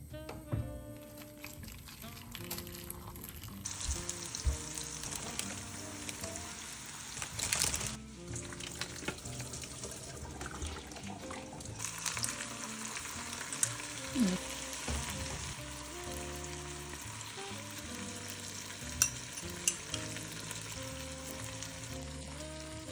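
Garlic fries in a pan on a home hob, a continuous close sizzle over a layered background of music, with a brief burst of louder crackle partway through and occasional utensil clinks.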